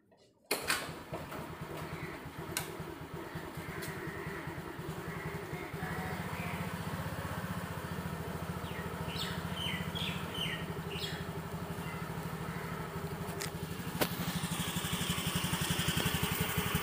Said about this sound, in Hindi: तो पहले किक पे तो नहीं लिया, दूसरे किक पे ले लिया